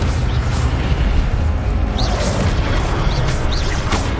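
Incendio fire spell cast in Hogwarts Legacy, a loud dense whooshing roar of flame that fills the whole stretch with steady rumbling energy and a few brief higher flickers.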